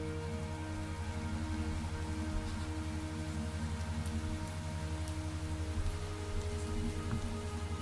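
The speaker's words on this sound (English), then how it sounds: "so that it stops raining" Steady rainfall in the Minecraft video game, a constant soft hiss of falling rain with a low hum underneath and no talking.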